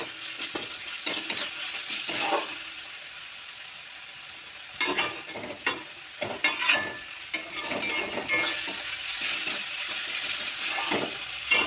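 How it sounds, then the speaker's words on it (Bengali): Spice masala of chili powder, turmeric and salt fries and is stirred in a pan for fish cutlets: a steady close sizzle with repeated scraping stirs in short bursts, no talking. "ভালো করে ভেজে নেব।"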